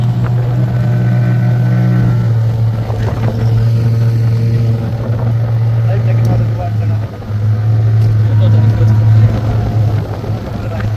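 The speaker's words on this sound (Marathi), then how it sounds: "ही आहे आम्ही आलेली बोट" Steady droning motorboat engine of a tourist boat on a Devbag trip, loud and continuous throughout, with a brief dip near the middle, while voices talk over it.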